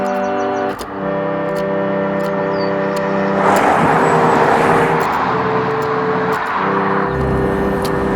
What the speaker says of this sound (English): I'm driving my MGF back to work